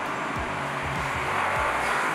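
An armored Audi RS7 tuned by APR, twin-turbo V8 with 765 horsepower, roars loudly and continuously, its engine note rising and shifting with rapid gear changes as it drives.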